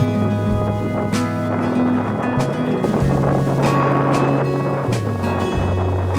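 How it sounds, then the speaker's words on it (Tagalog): Strong wind rushes and buffets the microphone steadily in San Juan, Batangas, over a low droning engine hum and faint wash of water. "Ang lakas ng hangin guys."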